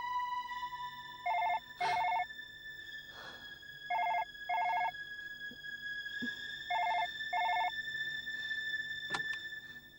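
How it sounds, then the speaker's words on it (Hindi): A telephone rings in repeated double bursts, clear and fairly close, with short pauses between rings and no talking. "लेकिन यहाँ तो फोन पहली बार बजा है"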